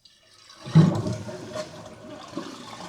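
An American Standard 4215A toilet using 1.2 gallons per flush, with a valve fix in place, starts flushing abruptly and keeps rushing and gurgling steadily, close and fairly loud, with no talking.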